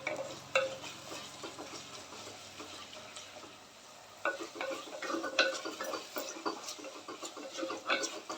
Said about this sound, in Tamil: தக்காளி பழம் சேர்த்துட்டு நல்லா வதக்கி விடுங்க.